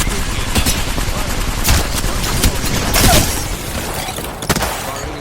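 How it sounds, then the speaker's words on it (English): Gunfire from the Apex Legends video game crackles in rapid bursts of shots and impacts, loud and dense, with sharp peaks scattered across the steady barrage. "Smart bullets hitting foe."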